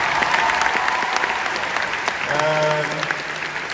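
Steady applause from a crowd, dense clapping throughout, with a voice briefly rising above it near the end.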